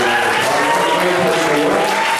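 A crowd at an amusement-park country music show at Knott's Berry Farm applauds loudly, a dense continuous roar of clapping and crowd noise.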